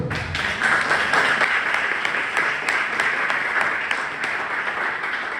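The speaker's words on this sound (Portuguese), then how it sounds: "Vamos aplaudir o Senhor?" A church congregation applauds during a live worship service, a steady, dense wash of many hands clapping that fills the whole stretch at a fairly loud, even level without pause.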